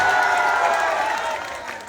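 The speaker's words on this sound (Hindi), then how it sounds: "एक जोरदार ताली से राजू सिंह के स्वागत।" Live crowd at an outdoor Durga festival stage event in Sahibganj applauds and cheers to welcome a performer, a dense sustained wash of clapping that stays loud throughout and eases slightly toward the end.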